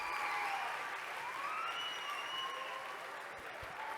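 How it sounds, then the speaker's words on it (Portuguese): An audience claps after a university lecture on nanotechnology applications, a steady, fairly faint sustained round of applause with a few whistle-like tones riding over it. "Agora sim, vocês podem aplaudir."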